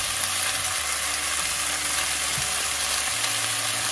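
Chinese yam and lean pork stir-fry in a wok with a constant close sizzle and a few faint stirring clicks.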